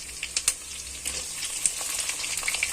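Chopped tomatoes drop into a pan of frying onions, green chillies and curry leaves, giving a soft, steady sizzle with small crackling pops and faint stirring scrapes, close by and fairly quiet, with no talk.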